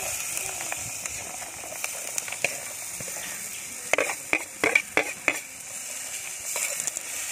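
Cut plantain with salt frying in a pan, a steady sizzling hiss with a run of scraping, clicking stirs near the end, close by.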